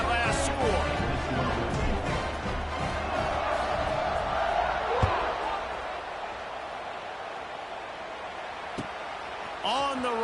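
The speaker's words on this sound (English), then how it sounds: "this crowd is buzzing after that last score" Stadium crowd in an NCAA College Football 26 video game buzzing and cheering after a score, a broad roar that slowly eases off, with a play-by-play voice talking over it.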